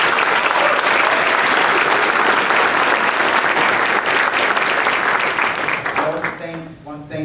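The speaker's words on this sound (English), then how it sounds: "Help me give them a round of applause." Audience at a Beijing versus Rollins College debate applauding the Chinese debate team, with loud, sustained clapping that fades near the end as a voice begins speaking.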